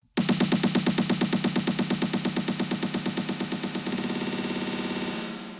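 FL Studio build-up for a dance-music drop: dense, loud, rapid rhythmic synth pulses drenched in reverb, steady at first, then a volume dip and a fuller wash near the end before the sound tails off.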